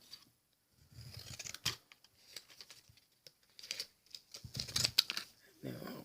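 Scissors snip through paper while shaping a decorative edge on a handmade Christmas treat box, several short crisp cuts in quick bursts at close range, with a quiet voice talking in between.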